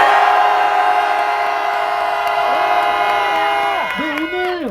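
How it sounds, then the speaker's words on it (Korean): A crowd gathered for a press conference outside the National Assembly main building in Seoul shouts together in one sustained, loud collective roar lasting a few seconds, trailing off near the end. "마지막으로 우리 함성 3초간 지르고 기자회견 마치겠습니다"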